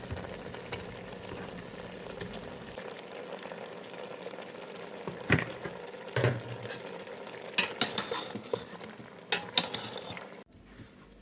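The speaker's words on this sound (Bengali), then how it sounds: "মাছটা আমি মশলার সাথে ভালোভাবে কষিয়ে" Fish pieces fry in a spice masala while a spoon scrapes and stirs them through the pan; a low sizzle runs under scattered clinks and knocks, growing busier near the end before cutting off.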